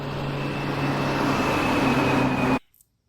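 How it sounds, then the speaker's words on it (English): Steady outdoor traffic rumble with a faint tonal whine, constant and moderately loud, cutting off abruptly to near silence. "Please forgive any car sounds you hear outside."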